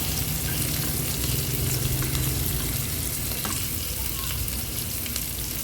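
Vegetables sautéing in a Kadonio multipurpose pot with a little water added: a steady, close, dense sizzle with faint crackles, continuous throughout and with no talking.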